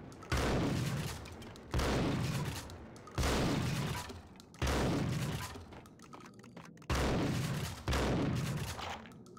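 In the Max Payne video game, a destructible box packed with ammunition explodes into a rapid chain of loud cracking bursts, five or six heavy blasts, each trailing off like popping rounds and debris, with no voices over them.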